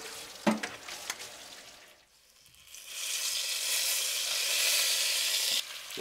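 Rabbit pieces frying and browning in a pan give off a steady, loud sizzle that dips briefly after a stir and then surges back, close and continuous with no talking.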